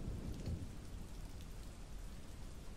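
Rain falls in the Halo Reach video game as a quiet, steady hiss of drops on surfaces, with a low rumble like distant thunder near the start, continuous and without voices.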